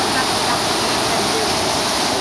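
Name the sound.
flowing water of a waterfall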